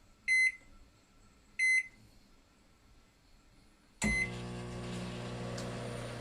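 A microwave oven fitted with an upgraded magnetron and capacitor gives two short beeps, then starts with a sudden loud, steady electrical hum that runs without a break to the end.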